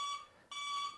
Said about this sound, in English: Does my horn beep?